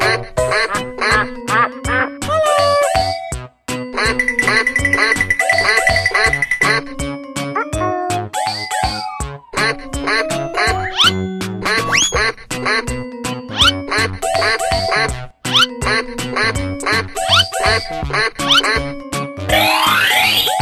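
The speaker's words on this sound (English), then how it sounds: "Duck." A cartoon duck quacks over and over in a busy, loud animated soundtrack, the squawky quacks mixed with bouncy boings, tinkling jingles and playful music throughout.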